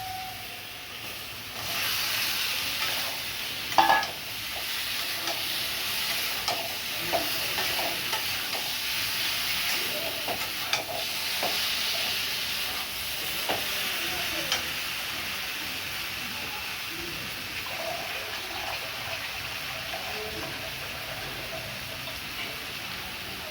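Ridge gourd and potato pieces fry in spices with a steady hiss and sizzle, stirred now and then with soft clinks and scrapes, close by and without a pause.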